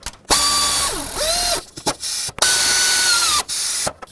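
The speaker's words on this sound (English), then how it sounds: "then I'll tighten up the 2 top bracket bolts" A powered ratchet tightens the top alternator bracket bolts on a 1997-2003 Ford F-150, sounding as several short, loud whirring runs whose pitch rises and falls as the bolts snug up.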